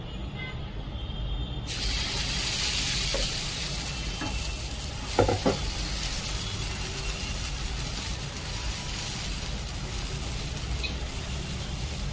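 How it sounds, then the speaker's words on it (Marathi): Dosa batter with a little oil sizzling on a hot pan, made from masoor and moong dal, a steady close hiss that jumps louder after a couple of seconds, with a faint clatter midway and no talking. "तर आता आपण काढून घेऊया आणि दुसरा डोसा टाकूया थोडस तेल टाकायचं"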